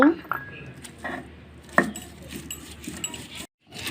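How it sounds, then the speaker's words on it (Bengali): Garlic cloves being ground on a traditional grinding stone after dried chillies, giving scraping, knocking strikes at an uneven pace with a brief pause near the end, heard close and alone. "এখন রসুনগুলো ভালোভাবে বেটে নেব।"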